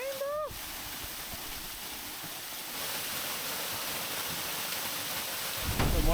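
Waterfall at a swimming spot, a constant broad rush of falling water throughout, with a brief voice-like sweep at the start and the roar swelling louder near the end.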